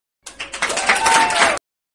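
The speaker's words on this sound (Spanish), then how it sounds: "Chicos, un aplauso para Tracy por su chiste." A short burst of applause from a small group, rising quickly and cutting off abruptly after about a second and a half.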